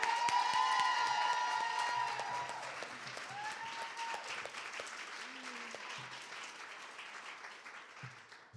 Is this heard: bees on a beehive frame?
no